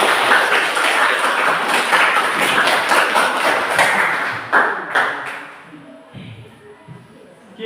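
Applause for a presenting group in a classroom, dense clapping that holds steady for several seconds, then thins into a few scattered claps and fades.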